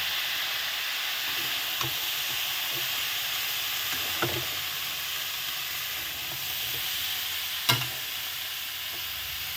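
Cut bottle gourd cooks in a pan with fried lentil dumplings and dried red chillies, giving a steady, even sizzle and hiss with a few light clinks of stirring.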